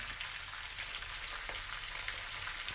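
Chicken pieces deep-frying in hot oil for KFC-style broasted chicken, a dense, even crackling sizzle holding steady throughout at moderate level, no voices.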